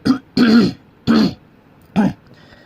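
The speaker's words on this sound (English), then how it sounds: "I'm getting a cough." A person coughs and clears their throat in four short, close bursts, each a rough voiced rasp separated by brief silences.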